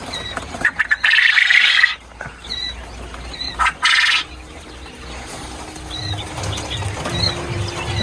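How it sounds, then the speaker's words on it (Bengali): Egg-laying quail on a farm in Shibchar, Madaripur, at night give short, high chirping calls, with a few sudden bursts of flapping wings in between. The calls are close and moderately loud against a quiet background. "এই যে এগুলো হচ্ছে আমার ডিমের প্যারিস পাখি।"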